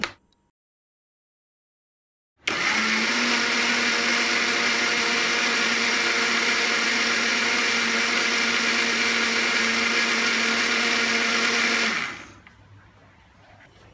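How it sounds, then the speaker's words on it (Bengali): After a couple of seconds of silence, a blender starts up and runs at a loud, steady whine for about ten seconds while making homemade mayonnaise with oil. It then cuts off to a faint hum. "এখন আবারও থেমে থেমে কয়েকবার ব্লেন্ড করে নেব"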